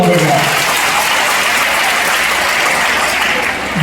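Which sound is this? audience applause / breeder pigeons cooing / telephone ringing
audience applause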